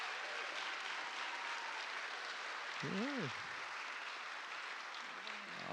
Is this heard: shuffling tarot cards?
no